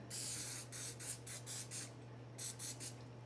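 A can of non-stick cooking spray sprays in several short hissing bursts with a longer spray at the start, close by over a low electrical hum.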